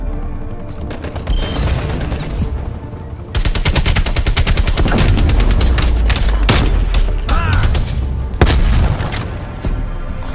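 Loud, sustained AK-47 automatic fire in a VIP escort game mode, long unbroken bursts with booming impacts, close and dominant, with little speech.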